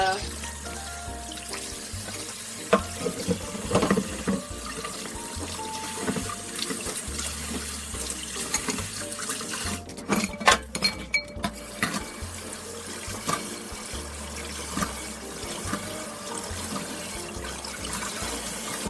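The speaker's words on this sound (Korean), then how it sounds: "흐르는 물에 가볍게 이렇게 씻어 주겠습니다." Frozen blue crabs rinsed under a running kitchen tap, a steady close splash of flowing water with clattering and knocks from handling the shells, heard alone throughout.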